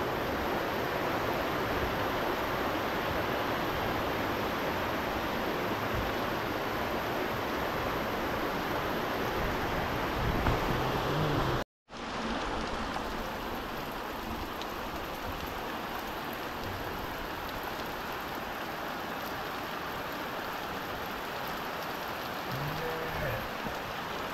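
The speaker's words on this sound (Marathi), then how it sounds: "अचानक मध्ये पावसाने सुरुवात केला आहे" Sudden rain pours over rice fields in Konkan as a dense, steady hiss that fills the whole stretch, broken only by a brief dropout midway.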